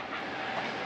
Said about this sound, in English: Got the underground train here on this side.